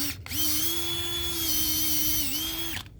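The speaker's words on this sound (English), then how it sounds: "I use an auger and a DeWalt drill to get my hole drilled out." A DeWalt cordless drill with an auger whines steadily at high speed for nearly three seconds, starting and stopping abruptly, with a slight dip in pitch as it bites into soil.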